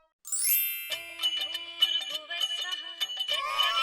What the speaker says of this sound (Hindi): ये आनंद दादा का फोन है।